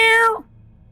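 A human voice imitates a cat's meow in one short, loud, close call that rises and then falls before cutting off into quiet.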